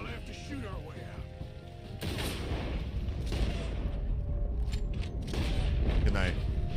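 Gunfire in Red Dead Redemption 2 on PS5: several sharp shots and booms burst over a steady rumbling game soundscape, at moderate loudness.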